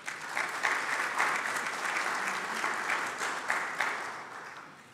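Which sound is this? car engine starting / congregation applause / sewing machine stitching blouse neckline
congregation applause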